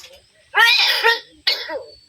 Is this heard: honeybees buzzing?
no